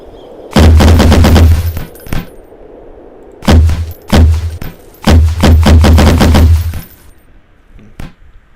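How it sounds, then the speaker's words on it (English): Pill gun firing pills in a video game: loud, close bursts of rapid clicky shots in three volleys, each a quick run of sharp pops, with a few lone shots between and after. "It is called the pill gun. Fires a bunch of pills"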